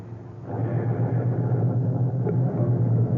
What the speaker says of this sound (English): I stood on the sidewalk and watched him drive away.